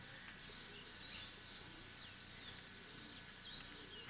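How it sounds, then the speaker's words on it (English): Birds call in the morning across Kathmandu as the city wakes, with faint chirps and coos scattered over a steady distant city hum; quiet and far off throughout. "They enjoyed the sounds of the city coming to life, mixed with the call of birds"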